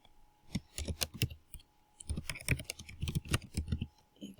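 Typing on a computer keyboard, two bursts of quick irregular key clicks separated by a short pause, close and clear with no talking.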